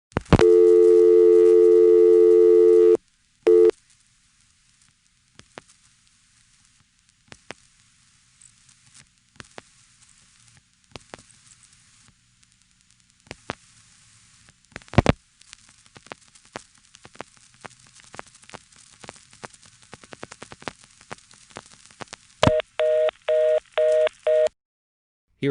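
Local telephone call through a GTE/Leich CXP-5 exchange, 1977: a steady dial tone, then dialing clicks and pulses, and finally a ringing tone in evenly spaced bursts, all clear with no voices.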